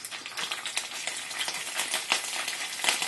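Garlic sizzles in a hot pan with a bright crackling hiss, stirred with scraping utensil clicks, close and fairly quiet, with no voices.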